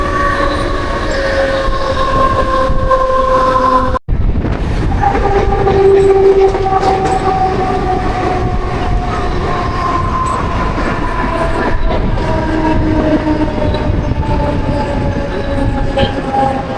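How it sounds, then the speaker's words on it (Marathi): A Mumbai local train rumbles along with continuous clattering, while long horn blasts sound over the rolling noise and the din drops out for a split second partway through. "आपली ट्रेन 10-15 मिनिटं डिले आहे आपली ट्रेन"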